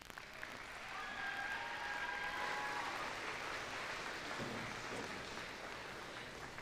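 A school Veterans Day assembly audience applauds the band, a soft, even patter of many hands heard from a distance, steady for several seconds and fading slightly toward the end.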